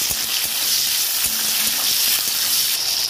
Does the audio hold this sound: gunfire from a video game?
no